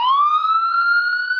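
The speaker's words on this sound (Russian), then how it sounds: "Дикая сирена," A Blitzwolf BW-AT4 steel smartwatch sounds its alarm as one steady, loud electronic siren tone that rises slightly and then holds, with no other sound and no talk.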